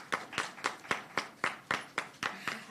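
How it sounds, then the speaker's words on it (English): A small press-conference audience claps in a steady, evenly spaced rhythm of about ten distinct claps, moderately close and free of talk. "Please give them a round of applause."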